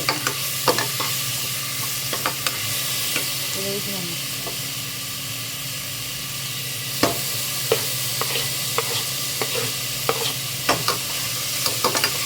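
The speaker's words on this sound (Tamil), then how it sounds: "நல்லா தக்காளி நல்லா வதங்கணும் அந்த மாதிரி வதக்கிக்கலாம்" Tomatoes sautéing in a pan give a continuous sizzling hiss, punctuated by repeated sharp clinks and scrapes of a stirring utensil, with a voice faintly under the cooking noise.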